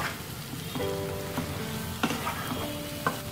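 Egg masala curry stirred in a pan after ground sesame, cashew and poppy seed powder goes in, with a steady soft sizzle and a few sharp spoon clinks against the pan across a short stretch.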